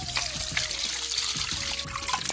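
Sliced meat is washed under running water: a close, steady trickle and splash from a tap, broken by soft handling knocks, with no talking.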